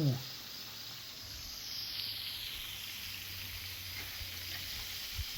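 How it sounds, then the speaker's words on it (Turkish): Steady crackling sizzle of lionfish frying in hot oil, a constant hiss throughout with a brief louder burst at the start. "Bunu bu şekilde kızartacağız arkadaşlar."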